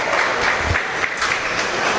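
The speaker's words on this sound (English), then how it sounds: "let's give our exhibitors a big round of applause." Applause for exhibitors at a showmanship competition, a brief burst of clapping from the gathered crowd, steady and fairly close.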